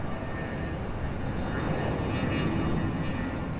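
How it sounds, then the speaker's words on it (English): Airbus A220 jet airliner engines roar with a steady, broad rumble from some distance at Raleigh Durham airport, continuous and fairly loud with no talk. "I hear another A220."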